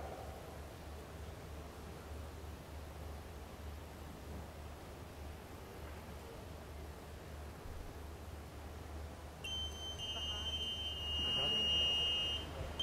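A game show buzzer rings out briefly near the end of a quiz round, a sharp tonal burst rising above a low background hum and faint studio murmur.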